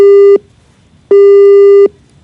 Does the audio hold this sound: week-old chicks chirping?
no